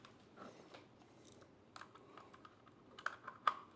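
Keys clatter on a USB keyboard plugged into a triple-monitor dock, scattered soft taps and clicks at close range in an irregular typing rhythm, quiet and alone.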